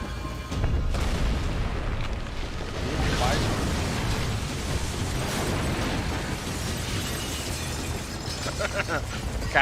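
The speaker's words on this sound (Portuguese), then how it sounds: "explosão" Explosions erupt in the video game Max Payne 3, a dense booming rumble with crackling debris that rolls on for several seconds while a person talks over the game audio.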